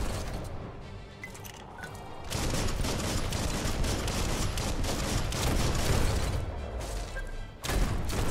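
Sustained bursts of video game gunfire in Biomutant, dense rapid shots and booms filling most of the stretch, loud and continuous after a quieter opening, with a short dip near the end before firing resumes.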